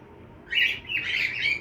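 A couple of bright, quick bird chirps close by, one short and one longer trill, over a quiet background.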